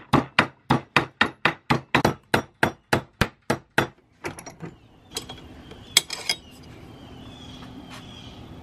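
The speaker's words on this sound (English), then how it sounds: "now we're gonna hit that with a hammer to bend it over" Rapid, evenly spaced hammer blows ring out on a metal bracket lip held in a vise, about a dozen sharp strikes, followed by a few scattered clanks and scrapes as the work stops.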